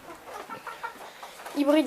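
A hybrid hen, not one of this year's pullets, makes soft clucks close by. A louder, rising cluck comes near the end.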